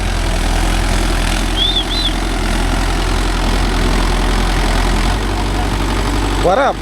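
A Mahindra Yuvo Tech Plus 585 DI 4WD tractor engine runs steadily, a loud, close, continuous low diesel rumble pulling a 9-tine cultivator, with birdsong chirps faintly above it.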